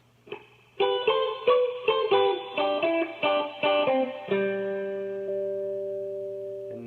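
A short, lively run of picked electric guitar notes, bright and slightly effected, ending on a held chord that rings out alone; the fill after the bass solo in a song.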